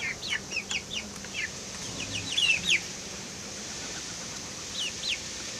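A mother hen clucks in short, soft bursts to her silkie chicks, with their faint high chirps, in a quiet outdoor setting.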